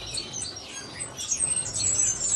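Cuban grassquit finches in an aviary chirp in quick, high, bright bursts, several birds overlapping in a lively twittering chorus close by.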